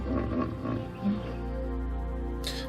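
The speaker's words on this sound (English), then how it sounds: "A hippopotamus sounds like this." A hippopotamus call comes from a Google Home smart speaker: low, rumbling grunts and a roaring bellow, a few pulses followed by a sustained growl, fairly faint with some room noise.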